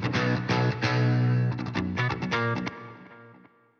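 Electric guitar played through an ethereal, echoing amp effect, sustained chords and plucked notes that ring out and then fade away alone.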